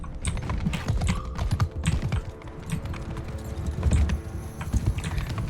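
Horses gallop in a battle in the video game Mount & Blade 2, a loud, dense drumming of hoof beats mixed with scattered clatter and battle noise.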